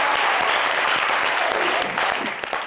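An audience at a live Friday show applauds steadily and loudly, the dense clapping holding throughout before easing slightly near the end.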